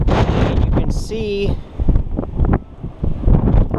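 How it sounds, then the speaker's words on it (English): Strong wind buffets the microphone outdoors in an apple orchard, gusting in loud low rumbles that swell and fade under a person talking. "It's very windy today"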